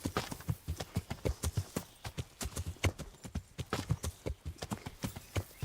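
Horse hooves clip-clop at a steady walking rhythm in the medieval game Kingdom Come Deliverance, with repeated close hoof strikes continuing throughout and no talk over them.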